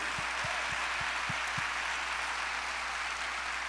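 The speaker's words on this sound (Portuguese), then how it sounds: "Aplauda o Senhor." Congregation applauding in church during a sermon, a steady, hissing wash of distant clapping with a few low thumps near the start, muffled and even throughout.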